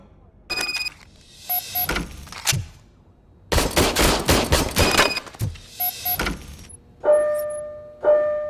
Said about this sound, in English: I was issued this old gun and serviced it according to the manual. I will try it out.